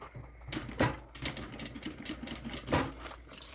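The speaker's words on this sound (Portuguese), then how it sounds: "Agora eu vou costurar." Sewing machine stitching the fabric lining of a fanny pack, a rapid mechanical chatter of needle strokes running steadily at close range with a few louder knocks.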